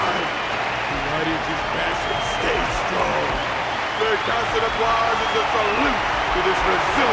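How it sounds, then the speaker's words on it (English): Sustained crowd applause in the game Honkai: Star Rail, a steady wash of clapping running throughout under a narrator's voice. "The constant applause is a salute"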